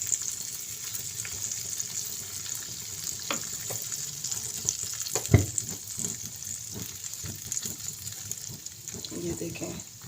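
Maida flour is stirred into ghee in a pan over a low flame, giving a quiet, uneven scraping and soft bubbling with a few sharper knocks from the spoon.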